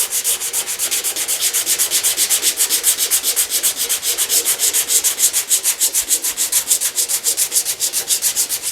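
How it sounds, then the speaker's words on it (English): Body filler on a GTO restomod front fender is sanded with 80 grit sandpaper in steady, rhythmic back-and-forth strokes, close and loud with no talking. "Then I'll just follow it up with the 80 grit."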